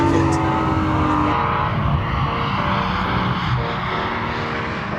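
A Lamborghini Aventador LP700-4 supercar with four-wheel drive is driven on a very wet Anglesey circuit, its engine droning loud and steady throughout, with a pitch shift partway through as the car passes or changes gear.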